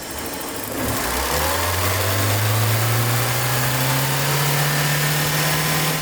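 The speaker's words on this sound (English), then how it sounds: "Now we can run the engine for 15 minutes." A BMW E30 engine starts up and settles into a steady, even idle while running for a coolant flush, a close, continuous low hum with no talking.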